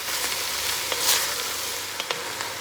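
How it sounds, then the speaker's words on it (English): Sausage and ground meat brown in a hot pan, a steady close hiss of sizzling with faint pops and a few stirring scrapes, and no talking. "we just going to get this browned. Sausage and meat. We browning now."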